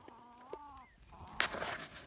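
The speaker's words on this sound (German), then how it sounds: "So, da sind sie wieder. Die Hühner in den Reben." Chickens in a vineyard give a few short clucks and a louder squawking call, close by, with no talk.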